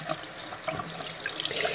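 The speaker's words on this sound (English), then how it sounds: "So then I just use this down here to rinse it." Tap water runs into a sink while cleaned brushes are rinsed, a steady close hiss and splash that flows continuously for the whole short moment, with no talking.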